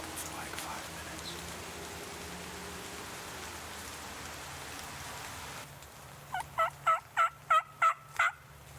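A wild Missouri longbeard turkey gobbles outdoors in the rain, a run of about six quick, evenly spaced gobble pulses near the end, moderately distant over steady rainfall hiss.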